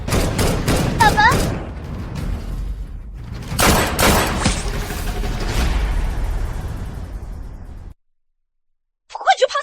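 Animated gunfire in a cartoon scene: several rapid bursts of shots and booms over dramatic background sound, with voices speaking, ending in a short silence and then a brief burst of sound.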